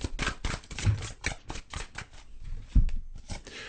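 A deck of tarot cards is shuffled by hand in quick, close bursts of riffling and flicking, with short pauses and a soft thump on the table.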